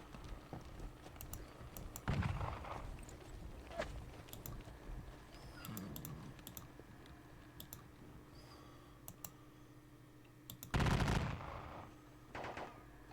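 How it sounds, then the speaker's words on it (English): Scattered bursts of distant musket gunfire and sharp clicks crackle over a low hum in a Battle of Waterloo wargame, with a couple of louder volleys standing out near the start and end. "We'll look to keep pouring in the gunfire."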